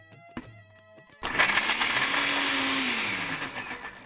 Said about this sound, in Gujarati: તો રુદ્ર, આપણી પેસ્ટ પીસાઈ ગઈ છે.